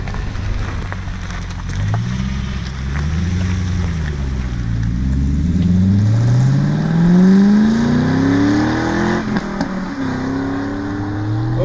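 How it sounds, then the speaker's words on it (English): A 2004 Cadillac CTS-V engine revs and accelerates, its pitch sweeping up and down through gear changes, loud and steady with road noise underneath. "Sounds like a Corvette."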